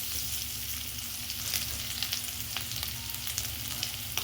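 Spices and paste fry in a hot pan with salt and turmeric powder, giving a continuous soft sizzle and crackle with scattered pops, fairly close and low in level, with no talk.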